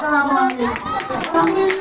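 Students clap together at a Diamond School and College annual class party, with a quick run of sharp claps sounding close by while voices carry over the top.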